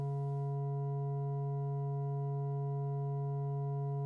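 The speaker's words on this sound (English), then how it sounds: "I'll also plot the fundamental square wave so you can see the Fourier series against that." Synthesized square-wave-like tone built from summed Fourier series sine waves, one steady buzzy sustained pitch with stacked harmonics, holding unchanged and alone throughout.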